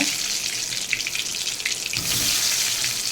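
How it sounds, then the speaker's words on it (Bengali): Small potatoes frying in hot oil, a dense steady sizzle with a louder hissing surge partway through, close and continuous with no voices. "আমার তেলটা গরম হয়ে গেছে, এখন আমি আলু কটাকে ভেজে নেব"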